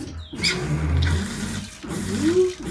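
Water sprays under pressure from a freshly filled pump tank on a homemade apocalypse vehicle, a steady rushing hiss that runs for nearly three seconds with a brief break partway through.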